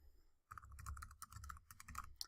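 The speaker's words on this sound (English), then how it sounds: "So let's type in Google's website." Rapid keystrokes on a computer keyboard as a web address is typed, an irregular run of close, crisp clicks lasting about two seconds after a brief silence, with no talking.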